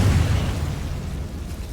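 Confringo spell explosion in the Hogwarts Legacy video game, a loud, low, rumbling boom that fades off over a couple of seconds, with no talk.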